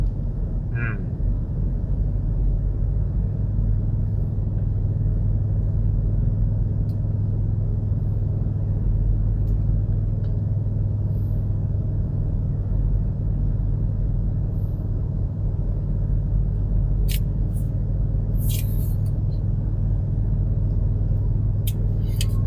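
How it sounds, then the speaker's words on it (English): A car drives through Honolulu streets toward Lagoon Drive, a constant low road and engine rumble with faint brief clicks near the end. "I'm just driving along, going down to Lagoon Drive direction"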